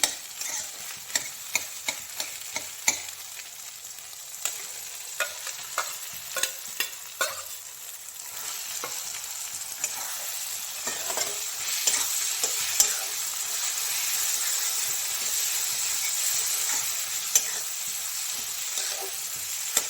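A spice mix frying with egg in a hot pan while a spatula stirs it, giving a steady loud sizzle broken by frequent sharp scraping clicks against the pan.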